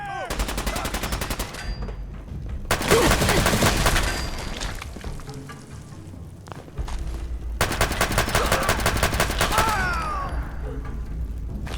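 Rapid bursts of automatic gunfire and single shots from the Fallout video game, loud and close, in three dense volleys separated by quieter gaps with footsteps and clatter, with a voice speaking briefly.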